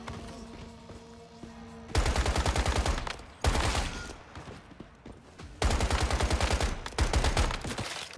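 Sustained automatic assault rifle fire in the survival shooter Once Human, loud rapid bursts around two to three seconds each, separated by quieter stretches of game ambience and a low steady hum.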